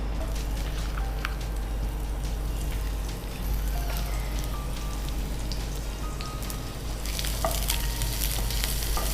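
Ridge gourd peel fries in ghee with a steady crackling sizzle, close and constant, with occasional stirring scrapes and no talking.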